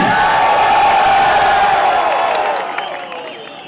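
A live stage crowd at a comedy or music show cheering and clapping, a dense roar of many voices that holds loud before fading off toward the end.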